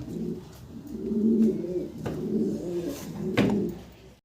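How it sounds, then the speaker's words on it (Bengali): A pair of fillback pigeons coo in low, repeated throaty phrases, close by and steady, with faint rustling in the background. "খুব সুন্দর এক পেয়ার ফিলব্যাক কবুতর"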